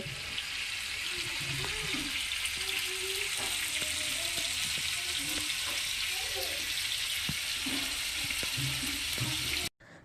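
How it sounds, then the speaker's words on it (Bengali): Fish fry in hot mustard oil with a loud, continuous crackling sizzle that fills the whole stretch, while a voice murmurs faintly underneath before the sound cuts off abruptly near the end. "তো তেলটা ভালো করে গরম হয়ে গেছে মাছগুলোকে একটা একটা করে দিয়ে নেব"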